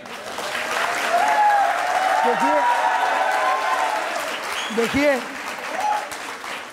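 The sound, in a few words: studio audience applause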